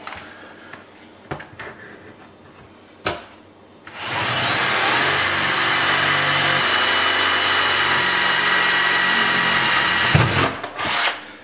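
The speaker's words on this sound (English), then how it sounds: "we're going to drill a hole up underneath" After a few clicks and knocks, a power drill whines loudly and steadily for about six seconds as it bores up through the underside of a jammed drawer, then stops with some rattling.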